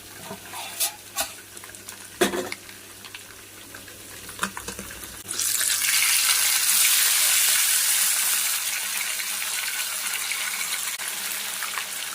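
Fish frying in a pan over a low flame, with a few scattered clinks and scrapes and then a sudden steady hiss that swells strongly partway through and stays loud and close to the end.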